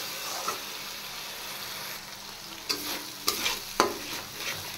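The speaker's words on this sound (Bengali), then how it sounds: "এবার এই মশলাটা একটু কষিয়ে নেব" A paste of sesame, poppy seed, green chili and onion sizzles steadily in a pan, with a few sharper stirring scrapes and spatters standing out near the end, close and fairly quiet.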